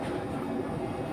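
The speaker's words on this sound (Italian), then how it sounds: "siamo in treno" Interior of a moving train between Acerra and Naples, a steady loud low rumble and rolling hum with no breaks and no voices.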